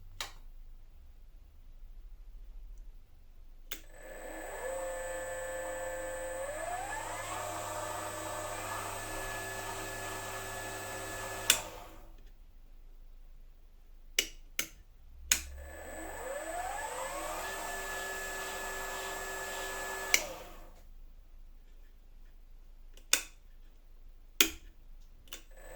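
A WM210V lathe motor run up twice, each time whining and rising in pitch as speed is increased, then cutting off, with clicks of switches in the quiet gaps between runs.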